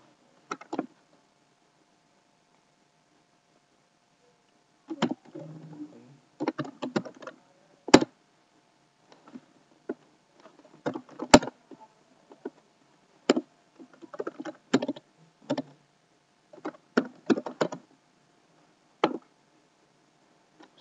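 Keystrokes on a computer keyboard while a script is written in PowerShell ISE, coming in scattered close bursts of clicks with pauses between them. No one talks.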